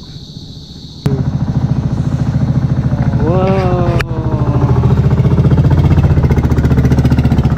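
A bangka motorboat engine starts up loudly and runs with a steady, throbbing drone close by, while a person exclaims briefly over it.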